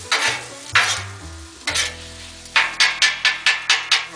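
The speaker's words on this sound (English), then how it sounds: "So scramble eggs enough where I can cut them up." Eggs being scrambled with a metal spatula on a Blackstone flat-top griddle: a soft sizzle runs throughout while the spatula scrapes and stirs in several strokes, ending in a quick, steady run of eight evenly spaced scrapes, close and fairly loud.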